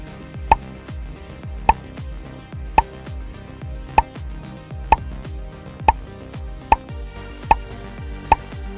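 Bubbles pop one at a time when tapped in a children's number-tracing game, each a crisp bright plop arriving at a steady, roughly one-per-second pace over a soft background music bed.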